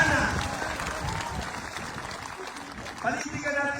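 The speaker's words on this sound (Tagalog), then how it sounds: "Kayo palakpak ngayon." Applause from a congregation at a diocesan Mass celebrating Christ the King, a steady broad clatter of many hands filling a large church, swelling slightly near the end, with some voices mixed in.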